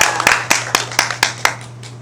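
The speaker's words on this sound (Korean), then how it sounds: "박수 한번 주세요" Audience members at a Buddhist temple doctrine lecture clap in a slow, even rhythm, about eight sharp claps spaced evenly apart, over a low steady hum.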